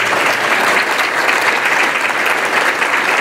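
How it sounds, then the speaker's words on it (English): An audience at a manufacturing event gives the panelists steady, full applause, a dense and loud wash of clapping that continues without a break. "How about a round of applause for our panelists?"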